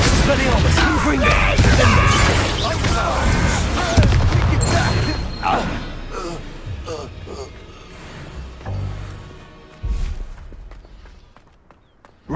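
Spell combat in Hogwarts Legacy: rapid magical blasts, bangs and crackling impacts in quick succession, loud at first then thinning out with scattered sharp hits, mixed with game effects.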